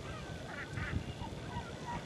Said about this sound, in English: I like the way that all of a sudden the birds from all over the place just started pouring in.